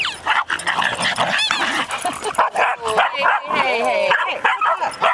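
Dogs at play give excited yips, whimpers and short barks in quick bursts, close and lively, with people talking over and between them.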